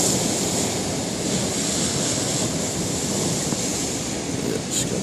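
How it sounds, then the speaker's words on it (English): Steady, broad rushing of lake waves and surf washing over the Port Dover pier during a November storm flood, with wind noise mixed in, constant and fairly loud throughout. "Splashing over a bit there."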